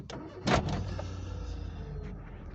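A Peugeot 207 1.4 petrol car starting, with a brief starter crank followed by the engine catching into a steady low idle, heard up close.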